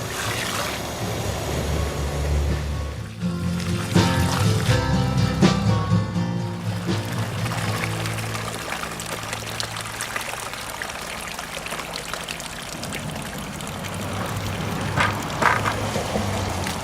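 Water pours and trickles steadily for the whole stretch, a continuous splashing stream with a few louder gushes early on.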